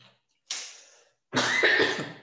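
Two coughs in a quiet room, a short soft one followed after a pause by a louder, harsher, longer one.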